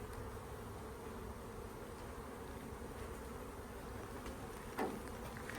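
Honey bees from a swarm in a trap drone in a steady, continuous buzz near hive frames, close and even throughout with no talking.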